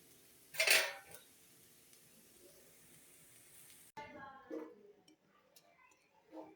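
Cooking pan with a roti dish being taken off the stove: a sharp metallic clank of the pan, then quiet, then softer scraping and clinking near the end, with brief speech in between.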